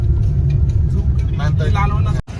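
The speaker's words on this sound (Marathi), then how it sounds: "गाडी चालवताना." Car driving along a road on the way to Mumbai past a market, a steady low engine and road rumble throughout, with a brief voice over it near the end before a sudden cutoff.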